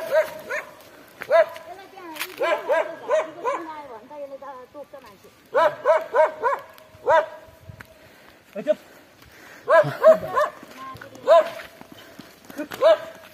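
A dog in a Nepali mountain village barks close by in repeated bursts of sharp yaps separated by short pauses, with people talking around it.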